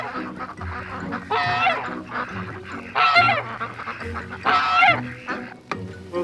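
Ducks on a snowy homestead honk and call in a few loud bursts, close by, with quieter shuffling between calls.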